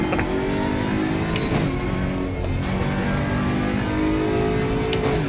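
Aquila CR1 race car engine in RaceRoom Racing Experience at Hockenheimring, a steady mechanical, clunky drone held near and loud throughout, with slight pitch shifts as revs change and no voices.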